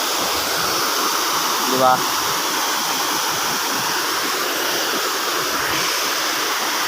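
A waterfall roars in a steady, loud wash of white noise throughout, with a brief spoken word near the start.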